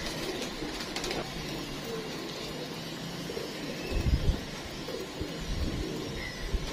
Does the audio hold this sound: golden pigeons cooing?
yes